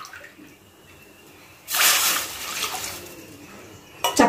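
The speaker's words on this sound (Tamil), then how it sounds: "இந்த டம்ளரில் இந்த டம்ளர் லெவலுக்கு பைனாப்பிள் ஜூஸ் கலந்துக்கோங்க." Sugar-free pineapple juice pours into a steel tumbler in a home kitchen while making pineapple kesari. A steady, fairly loud splashing pour starts partway through after a quiet lead-in, with a brief sharper splash at the end.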